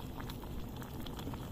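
Cassava and chicken broth with salt, herbs and cilantro simmering in a pot, a steady soft bubbling patter that runs evenly throughout, close and fairly quiet, with no talking.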